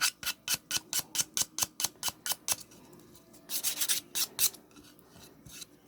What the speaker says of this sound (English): You go in then with your emery board and trim off, smooth off your wee edging.